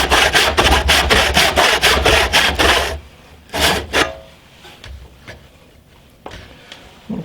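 Hand saw cross-cutting timber for a timber-framed workbench, a rapid run of rhythmic rasping strokes for about three seconds, then a few slower, separate strokes with quiet pauses between, close and fairly loud.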